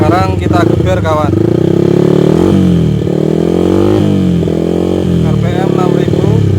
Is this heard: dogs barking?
no